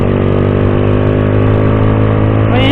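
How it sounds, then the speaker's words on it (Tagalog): Heavy big-bike motorcycle engines roar loudly and continuously at close range, a thick droning rumble that swells slightly at the end, on a mountain road before dawn. "Maingay na yung motor namin pero maingay yung kanila."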